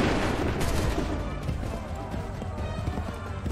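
A musket volley in Assassin's Creed III, a dense crackle of overlapping shots with rumbling battlefield noise and hoofbeat-like thuds beneath, loud and continuous.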